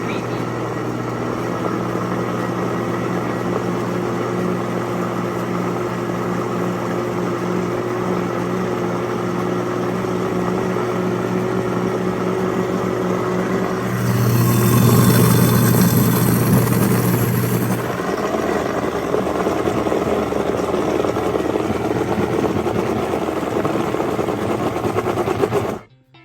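Blender grinding peanuts into creamy peanut butter, a steady loud motor whir with a strong hum, briefly surging louder partway through before settling and cutting off at the end.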